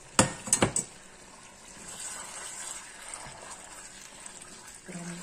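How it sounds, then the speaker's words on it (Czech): Pork stirs in a pan for a kung pao–style dish, opening with a quick burst of sharp clinks of utensil on cookware, then a faint, steady scraping and sizzle, with one more metallic tap at the end. "Promícháme."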